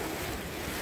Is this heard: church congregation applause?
no